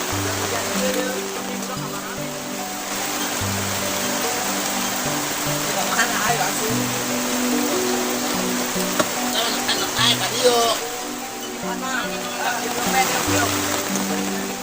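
Steady rain hisses on a rural garden plot, a constant wash heard beneath people talking and a low melodic background tone.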